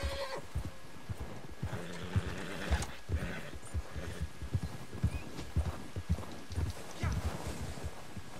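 A horse's hooves clip-clop steadily in Red Dead Redemption 2 Online, climbing snowy Colter Mountain, with a whinny or two and light wind noise over the close, rhythmic footfalls.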